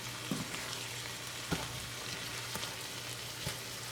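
Cabbage sizzling steadily in a pan for an egg roll in a bowl dish, a soft continuous frying hiss with a few faint clicks of stirring, fairly quiet and without voices.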